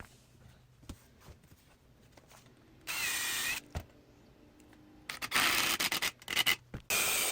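Bursts of high-pitched power drill whirring while drilling holes in bourbon barrel wood for an Adirondack chair, a short burst then a longer stretch of several revving pulses, close by, with scattered handling knocks between.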